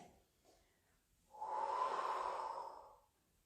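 A single long exhale, steady and moderately loud, lasts about a second and a half during a Pilates roll-up on a mat. A few faint breaths come before it.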